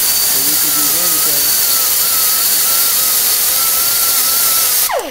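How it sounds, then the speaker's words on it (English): A power grinder wears down the pins on a Ford Model A shift tower, a steady high whine running continuously and close, with a brief rise at the start and a sharp cut at the end. "is I simply just grind the pins down."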